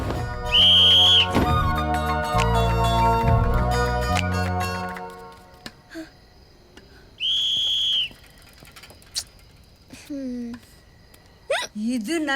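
A person in a romantic film scene gives two short, high, steady whistles, separated by a few seconds, after a swell of background music, with brief vocal sounds in between.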